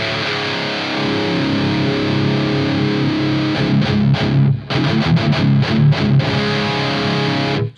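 An electric guitar plays through an EVH 5150 Iconic EL34 80-watt tube amplifier and cabinet with heavy distortion. A sustained chord rings loud, then gives way to choppy palm-muted chugs and ends abruptly.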